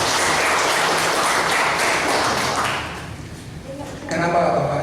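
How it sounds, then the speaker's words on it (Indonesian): Audience applause at a torch-lighting ceremony for RRI in Aceh Tengah, a dense, steady clapping that fades out before a voice resumes speaking. "saya pikir patut kita beri aplaus kepada RRI"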